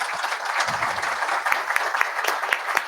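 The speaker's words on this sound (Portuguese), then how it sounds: "Peço uma salva de palmas aqui para o pessoal." An audience at a conference panel applauds with a brisk burst of clapping, individual claps standing out as it thins toward the end.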